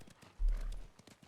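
A horse's hooves clip-clop in a quick, steady rhythm while riding in the Ghost of Tsushima video game, a burst of heavier hoofbeats rising briefly near the middle, fairly close and clear.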